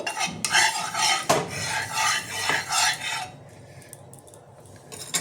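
Ghee is stirred in a hot pan for a prawn dish, a metal spoon rasping and clinking in busy continuous strokes for about three seconds before dropping to a quiet sizzling background with a last faint scrape.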